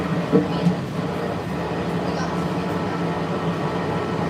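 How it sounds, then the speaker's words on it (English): Disney's Monorail Red running between the Grand Floridian and Polynesian resorts gives a steady, moderately loud rolling rumble with a faint whine, a couple of soft knocks early on and no clear speech. "Welcome aboard Monorail Red."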